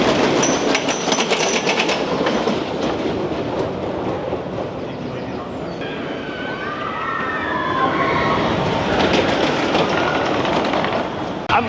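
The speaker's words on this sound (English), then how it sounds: "the Nickelodeon Streak, the old roller coaster, which I can hear coming right now" The old Nickelodeon Streak wooden roller coaster at Blackpool Pleasure Beach rattles past with a steady clickety-clack, its train growing closer and louder over about twelve seconds, heard alone without talk.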